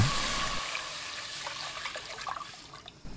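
Water, 1.5 liters, poured into a pot of 130 g of broth anchovies: a steady close splashing gush that fades into softer trickling and dribbling toward the end.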